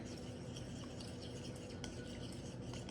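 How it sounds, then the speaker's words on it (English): Spoon stirring a brownie-cookie mixture in warm oil in a home kitchen, a steady faint scraping and swishing that runs continuously, quiet and close, with no voices. "So we're just gonna keep stirring this in the warm oil."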